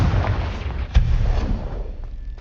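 A blasting-spell explosion in the Hogwarts Legacy video game gives a broad, rumbling boom with a sharp burst near the middle, then settles into a fading low roar. No voices are heard.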